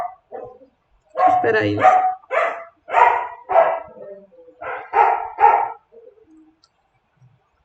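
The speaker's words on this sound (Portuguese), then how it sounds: "Ai, desculpa meu cachorro, gente" A pet dog barks several times indoors, mixed in with a person talking close by who keeps speaking over the barks.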